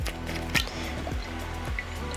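Olive oil is poured onto a summer fruit salad as part of a dressing, giving soft, quiet drips and squishy liquid splashes in a few brief bursts.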